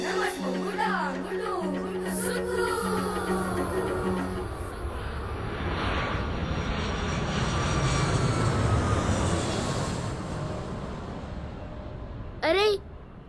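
An airplane's engine roar swells and fades as it passes overhead. Voices talk at the start, and a brief whistling sound comes near the end.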